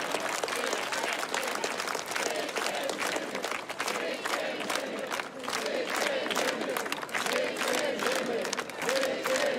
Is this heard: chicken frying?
no